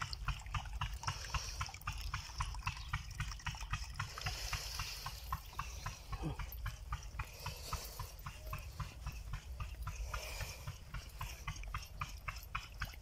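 Water runs steadily onto farm plants, seeping into the holes of their planting bags, with a rhythmic pulsing flow that continues for the whole stretch under a constant low rumble and no talk.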